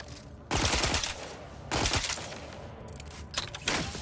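Plasma bolt weapon in The Outer Worlds 2 fires in three or four short, loud crackling bursts separated by brief pauses, with no talk over it.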